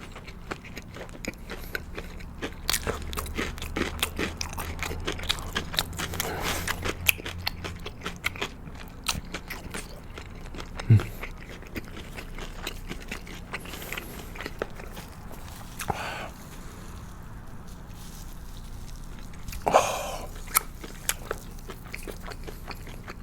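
Crunchy cheese balls and boneless Korean fried chicken are bitten and chewed up close, with sharp crunches and crackles scattered irregularly between softer, wetter chewing sounds in a quiet room.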